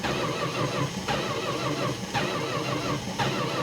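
Old car's starter cranking on a cold start in sub-zero weather, a steady rhythmic churning with regular pulses roughly once per second, close and loud, without catching, no talking.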